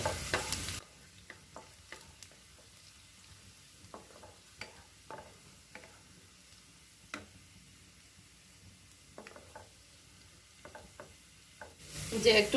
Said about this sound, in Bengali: প্রথমে আমি আমার চিকেনটাকে ভেজে নেব এই রসুনের সাথে